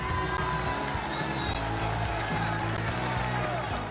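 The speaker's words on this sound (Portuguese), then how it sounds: "os craques rubro-negros dos anos 80 ainda arrancam aplausos" A stadium crowd at the Maracanã applauds and cheers in a steady, roaring mass, sustained and fairly distant-sounding throughout.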